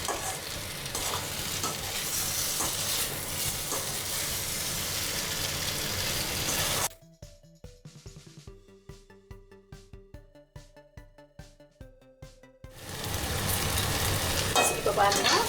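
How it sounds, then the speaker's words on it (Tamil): Potato masala fries in oil and is gently stirred with a ladle: a steady loud sizzle, then a stretch of quieter rhythmic scraping strokes against the pan, and the sizzle returns strongly at the end. Nobody speaks. "உருளைக்கிழங்கு உடையாமல் அப்படியே மெதுவாக கிண்டி விடுங்க."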